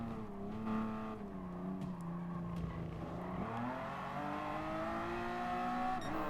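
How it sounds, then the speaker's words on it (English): A car engine in Gran Turismo Sport during a midship challenge race, its steady, droning tone sliding up and down as the revs change, with a continuous roar throughout and no talk. "Love the sound of this car,"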